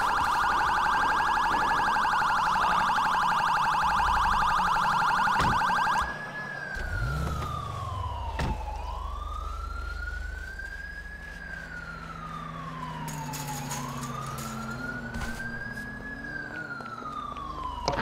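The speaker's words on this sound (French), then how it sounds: "Allez, éteindre les sirènes, c'est légèrement agressant." Police car sirens in the video game GTA V wail loudly and steadily, first as a fast piercing warble and then as slow rising-and-falling sweeps that continue without pause.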